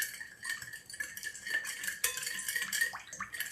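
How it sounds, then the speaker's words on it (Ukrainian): Marinade of grainy mustard, oil, vinegar and sugar being stirred in a bowl, with a steady run of spoon scraping and clinking against the sides, close and fairly quiet, no talking. "Все ретельно перемішаємо."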